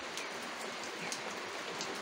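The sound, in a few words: rain falling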